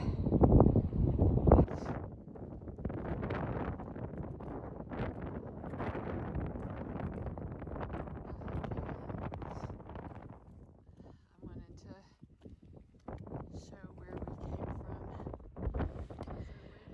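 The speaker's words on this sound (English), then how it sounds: "as soon as we get around the corner, we're in the wind again" Strong gusty wind buffets the microphone on a steep Pyrenees mountain trail with hairpin switchbacks, a loud roaring rush that eases and returns, with faint voices underneath.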